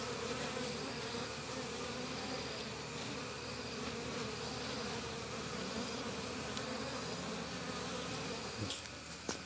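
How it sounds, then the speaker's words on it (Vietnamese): Domestic honey bees buzz around a hive in a Vietnamese apiary, a faint, steady swarm drone with no voices heard. "Đấy, có con ong to, có con ong bé xíu xíu xíu."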